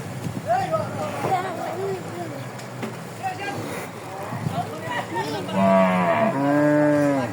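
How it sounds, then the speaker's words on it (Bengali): Cattle at the Muktarpur cattle market in Munshiganj low and moo, with a long loud moo toward the end, while people talk nearby over a busy outdoor background. "কি সুন্দর বড় গরু, মাশাআল্লাহ, মাশাআল্লাহ, অনেক সুন্দর বড় গরু।"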